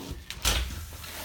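A large glass shower door in the bathroom of a 2017 Cherokee 244JR travel trailer slides open, with a soft scrape and a dull thud up close and no speech.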